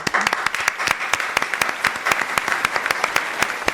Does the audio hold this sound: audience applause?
yes